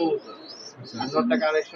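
Pigeons cooing in a loft in Bangladesh, brief soft coos close by, mixed with a voice speaking over them.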